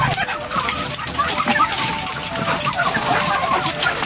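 RTL chickens, a flock of about a hundred on a backyard farm, cluck steadily at feeding time under a busy, continuous farmyard din with occasional splashing, with some voices in the background.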